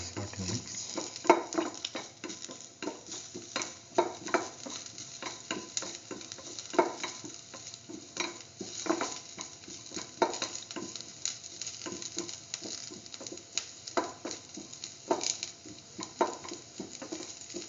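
Soy chunk instant noodles being stirred and tossed in a pan, with a steady sizzle of frying and a rhythm of scraping and clinking strokes close by, running continuously with no talk.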